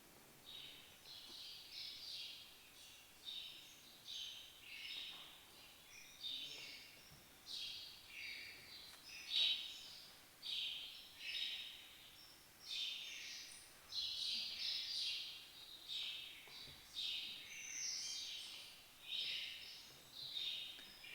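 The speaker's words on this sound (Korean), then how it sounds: "참새소리입니다." Recorded sparrow chirps played back in a church service, a continuous run of bright, rapid twittering bursts coming in uneven clusters, moderately faint and steady over a quiet background with no speech.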